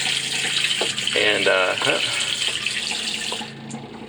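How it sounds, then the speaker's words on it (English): A water pump runs with the faucet flowing inside a 2015 Oliver Legacy Elite II travel trailer, a loud continuous rushing stream with a steady pump hum beneath, before the flow cuts off near the end. "you can hear the water pump running"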